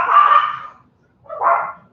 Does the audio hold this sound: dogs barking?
yes